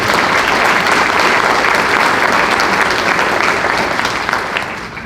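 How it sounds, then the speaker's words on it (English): A room of people at an overdose summit breaks into loud, sustained applause, with dense continuous clapping that tapers slightly at the end. "Give everyone in the room who shared a story today a round of applause."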